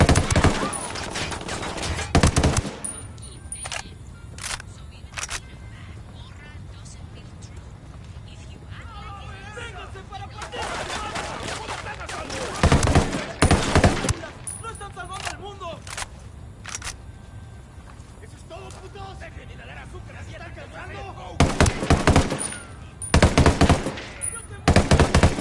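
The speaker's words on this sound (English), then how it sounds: "Taking fire from the parking area." Heavy machine-gun bursts and rifle shots in rapid clusters, loud and near, broken by quieter gaps with voices speaking, then more intense volleys toward the end.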